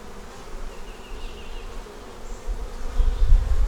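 Honey bees buzz steadily around an open hive during an inspection of brood frames, a dense close hum with a low rumble that swells louder toward the end.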